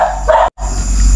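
A single dog barks once at moderate distance at night near a cemetery, a short sharp bark followed by a brief silence and steady background hum.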